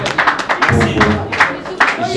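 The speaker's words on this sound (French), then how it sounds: "Est-ce qu'on peut applaudir pour la presse, s'il vous plaît?" An audience breaks into applause for the press at a French-speaking event, with bursts of clapping that swell and fade over a couple of seconds, mixed with voices and crowd murmur.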